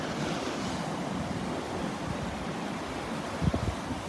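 Ocean surf at Delnor-Wiggins beach on a windy morning with rising waves, a steady broad wash of breaking water and wind rush heard close and continuous, with a few faint bumps near the end.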